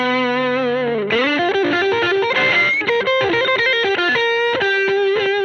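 Electric guitar lead line run through an Empress Echosystem delay preset, distorted and sustained notes with echoing repeats and a chorus-like shimmer, played alone and fairly loud throughout.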